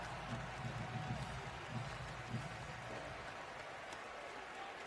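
A Wisconsin basketball arena crowd cheering as Nick Boyd hypes them up, a dense continuous roar with some clapping and faint low voices underneath.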